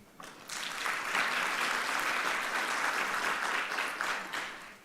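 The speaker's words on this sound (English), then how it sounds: "our panelists today, I think they deserve a round of applause" Conference attendees at a funding symposium give the panelists a round of applause, clapping swelling quickly into a full, sustained roar of many hands before easing off near the close.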